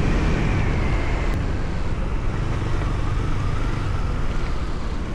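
A motorcycle cruising at about 60 km/h on a city street in Durgapur, giving a steady, loud broadband rush of engine and wind noise throughout with no clear changes.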